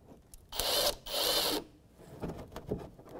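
A T5 Torx bit on a power driver snugs a bolt on a 2015-2020 GMC Yukon XL during passenger upstream O2 sensor work, giving two loud whirring bursts of about half a second each, then quieter handling clicks.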